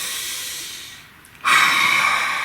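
A single deep breath: a soft, airy exhale fades to near silence, then a louder, longer breath rushes in close to the listener, with no talking.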